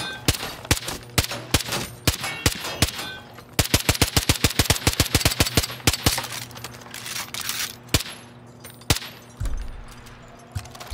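Gunfire from weapons in the video game Far Cry New Dawn: sharp shots, first spaced and then in fast rapid bursts, loud and close, with a few isolated single shots near the end and no talking.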